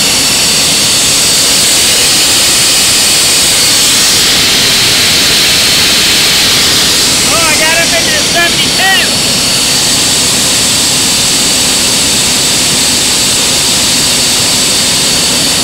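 A KEG Torpedo high-pressure sewer nozzle blasts a water jet at 2100 PSI, making a loud, constant roaring hiss that fills the whole clip, with a person briefly speaking over it midway.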